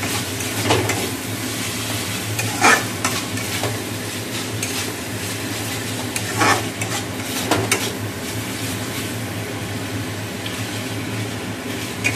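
Spice paste frying in a pan for a vegetarian dish, a soft continuous sizzle with a few louder scrapes and clinks of stirring, close and without talk.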